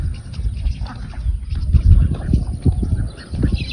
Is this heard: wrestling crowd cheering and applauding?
no